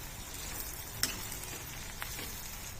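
Plantain pieces sizzle in a pan of oil with onions while being stirred, making a low, steady crackle broken by a couple of sharp scraping clicks from the spoon, with no voices.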